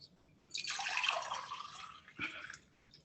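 Lukewarm water with a little rock salt poured into a glass for a kunjal yoga cleanse, a steady close splashing pour lasting about two seconds with a brief gurgle near the end.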